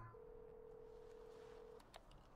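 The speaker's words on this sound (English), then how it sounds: "here we go. Phone call." A phone call tone in the Devil May Cry 5 video game: one steady electronic beep held for about a second and a half, then a couple of short clicks, fairly faint over a low background hum.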